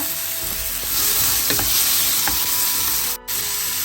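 Tomato, shallots and garlic fry in oil in a pan with a loud, steady sizzle, and a few sharp scrapes from stirring cut through near the middle.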